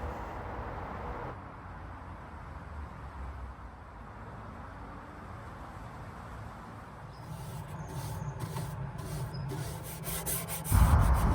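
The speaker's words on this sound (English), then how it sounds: "I used a walnut wiping stain from Mohawk." Walnut wiping stain rubbed onto a mid-century wood furniture piece, a continuous soft rubbing and scrubbing close by, with a few louder knocks near the end.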